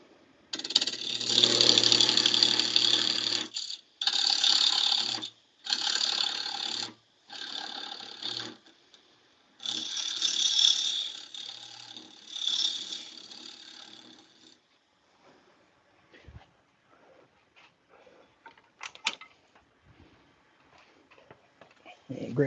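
Carbide tool cutting a recess into a workpiece spinning on a wood lathe, heard as loud bursts of scraping and cutting in short runs with pauses between them. Quieter shop sounds follow as the cutting stops.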